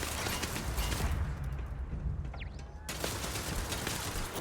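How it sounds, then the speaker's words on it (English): Turrets firing in the video game Starfield, a dense continuous rattle of rapid shots that fills the whole stretch, briefly thinning in the middle before resuming at full strength. "Just those stupid turrets."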